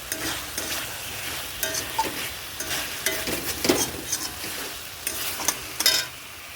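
Fritters being tossed into an oily spice masala in a pan, with a continuous sizzle and frequent scraping spoon strokes that come in quick irregular bursts, close and fairly loud.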